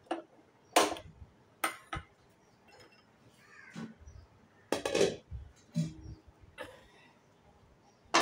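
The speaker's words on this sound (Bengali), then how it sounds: "গ্যাসটা জ্বালিয়ে নিই।" A kitchen gas stove being lit for cooking gives a few sharp, irregular igniter clicks and brief bursts close by, with quiet gaps between them.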